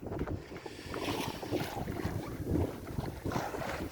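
Wind buffets a sailing boat under full sail, making a loud, gusty rumble against the microphone over the wash of the sea.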